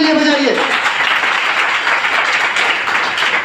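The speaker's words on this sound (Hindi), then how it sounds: "एक बार जबरदस्त ताली अपने लिए बजाइए।" An audience at an RCM business seminar bursts into loud, sustained applause: a dense wash of clapping that fills the whole stretch, with a voice briefly audible at the very start.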